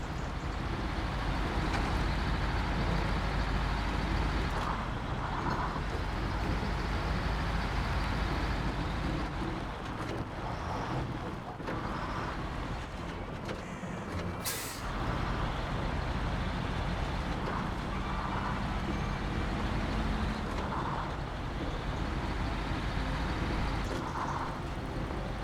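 A truck engine in Snowrunner drones steadily while driving over hills and through mud, a continuous rumbling motor with slight variations in load and one brief higher-pitched squeal partway through.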